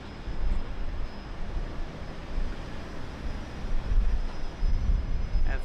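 A Qantas airliner departs Brisbane Airport for Newcastle, its engines a broad steady roar at a distance, rumbling and swelling slightly toward the end, with no voices.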